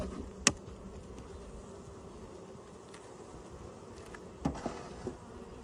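Honeybees hum steadily around an open beehive during feeding and mite treatment, a faint constant buzz with a few sharp knocks from handling the hive.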